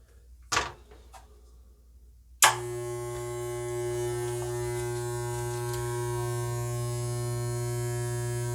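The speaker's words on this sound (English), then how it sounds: "You want to put number 4 on your clipper." An electric hair clipper fitted with a number 4 guard clicks a few times, then switches on into a steady, close, even buzz that holds to the end. No voices.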